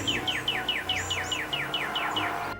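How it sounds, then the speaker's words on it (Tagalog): A Northern Cardinal repeating quick, downward-slurred whistled chirps, about a dozen in a steady rhythm, clear and fairly close over faint background noise. "Northern Cardinal"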